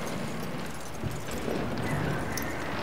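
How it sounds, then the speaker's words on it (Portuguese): Horse being led on foot in the video game Red Dead Redemption II, soft clip-clop of hooves at an unhurried pace under ambient background noise, no talking. "Mas vamos levar o cavalo até o palanque."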